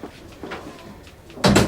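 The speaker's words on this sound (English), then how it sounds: "Close the door." A door closing in an office, a single firm thud near the end after quiet room tone with faint earlier bumps.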